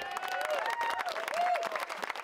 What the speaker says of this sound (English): The community of Medical Lake cheering as Mayor Terry Cooper announces the former women's prison will not be bought by the city of Spokane.